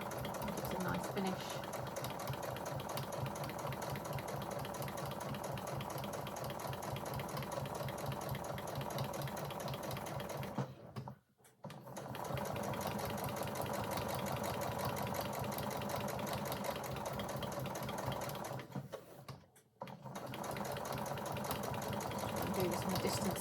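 A sewing machine understitching a contrast lining runs in a fast, steady mechanical whir with rapid needle ticking, stopping briefly twice before resuming at the same close, even level; a voice speaks at moments.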